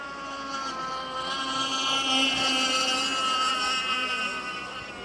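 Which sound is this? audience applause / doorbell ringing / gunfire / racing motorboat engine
racing motorboat engine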